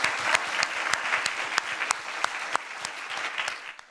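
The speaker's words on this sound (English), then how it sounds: "I think we should have another round of applause." A conference audience at a European Central Bank fiscal policy event gives a dense round of applause, many hands clapping steadily before it thins and fades near the end.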